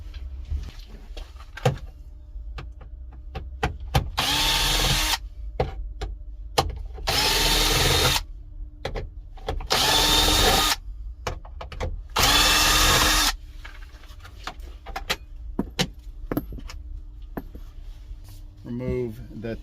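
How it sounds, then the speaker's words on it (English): In a wrecking yard, a power drill backs out 7mm bolts from a Chevy Cobalt dashboard in four loud, close, whirring bursts, with clicks, handling noises and a voice in between. "And then remove the four 7mm bolts above the glove box."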